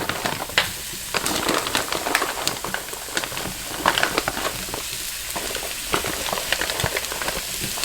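Plant-based chorizo crumble frying in a pan, a dense, continuous crackling sizzle with sharp pops and stirring scrapes, close and loud with no talk over it.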